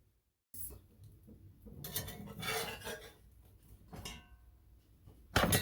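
Clanking metal scrapes and clinks as a pizza is lifted out of a cast iron pan, several short bursts separated by quieter gaps, ending on a sharp loud knock.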